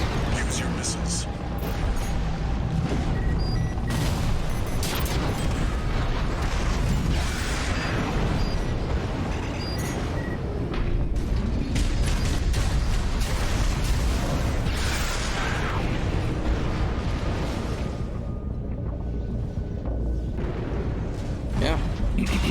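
Missile explosions and heavy mechanical combat din from the Armored Core VI video game roar continuously, loud and dense, with booms and clanks under voices talking throughout.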